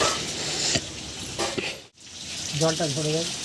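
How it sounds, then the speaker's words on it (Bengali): Hot oil sizzles steadily in a pan of frying fish, with a few clinks of utensils and a brief voice near the end over the frying. "একদম সুন্দর করে একদম কড়া কড়া করে মাছ ভাজা হচ্ছে"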